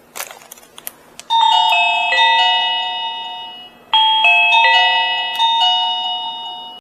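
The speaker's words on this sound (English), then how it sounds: "Press the doorbell button." Reolink wifi video doorbell chime ringing indoors, two clear multi-tone ding-dong chimes, each ringing out and decaying, preceded by a few faint clicks from the button press.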